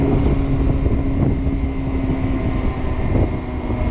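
A Kymco Agility 50 scooter, fitted with a windscreen, phone holder and trunk, runs flat out at its top speed against the rev limiter, a constant buzzing engine note mixed with heavy wind rush, loud and close throughout.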